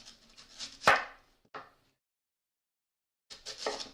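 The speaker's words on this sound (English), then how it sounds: "So I just cut one flat side and then cut it into slices." A knife slices through a sweet potato on a board, giving a few separate crisp cuts: one sharper chop, a lighter one soon after, a pause of silence, then a longer scraping cut.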